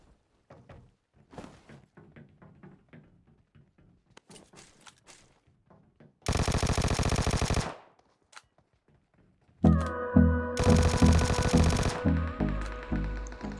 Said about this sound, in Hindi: और अब गन फाइट होती है, वो देखो कैसे गन फाइट होती है।